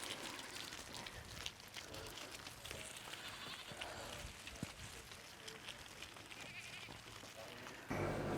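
Sheep bleat across an Icelandic farm at Augastaðir, with a steady wash of ambient noise, maybe light rain, throughout and a louder burst near the end.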